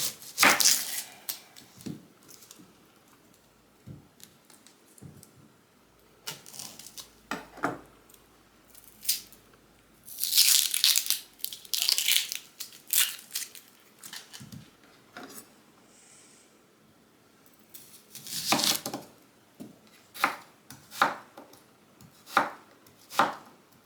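A quarter of an onion chopped with a knife for gazpacho: crisp, close knife strikes on a board come in irregular bursts of rapid cuts separated by quiet pauses.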